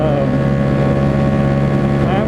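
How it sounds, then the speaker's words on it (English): Motorcycle riding at speed with a steady, loud engine drone and heavy wind buffeting across the microphone, continuous and close, no pauses. "I really don't know if you can even hear me over all this noise and all the wind"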